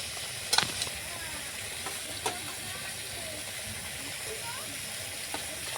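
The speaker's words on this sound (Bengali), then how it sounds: "এবার আমি এক এক করে পটলগুলো দিয়ে দেবো, ভেজে রাখা পটলগুলো" Fried pointed gourd pieces dropped into a boiling curry, with a steady soft bubbling sizzle and a couple of faint taps as pieces go in.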